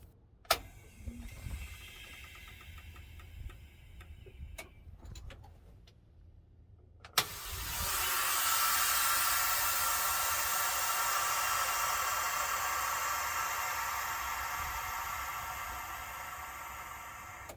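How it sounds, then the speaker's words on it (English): Air suspension bags on a 1963 Ford F250 with a Cummins swap, a few sharp solenoid clicks and faint hissing, then a loud sustained rush of air filling the bags that holds steady to the end. "it opens the fill solenoid, which fills the bags"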